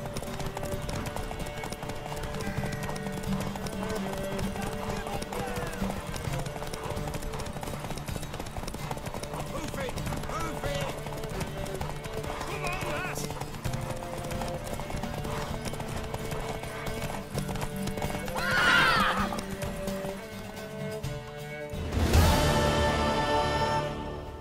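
Steady hoofbeats clip-clop continuously over a busy backdrop, with a horse whinnying near the end, followed by a loud burst, from The Witcher 3 video game.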